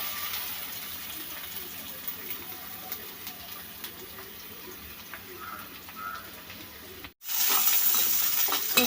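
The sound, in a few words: chopped onions frying in a pan with prawns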